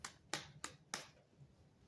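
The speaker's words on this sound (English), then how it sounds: "I'm clapping, YouTube." Three sharp hand claps ring out at an even pace, close and fairly quiet, with a short gap of near silence after them.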